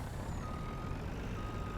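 A vehicle backs a trailer onto a pad in Farming Simulator 19, its steady reversing beeps faint and continuous beneath a low engine rumble, with no talking.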